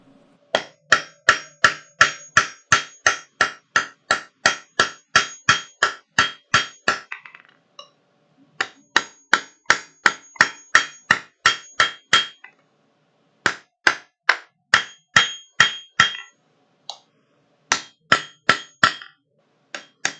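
A hammer rings against an anvil in steady, evenly spaced strikes, loud and close, arriving in runs of rapid blows separated by brief pauses, with no talking.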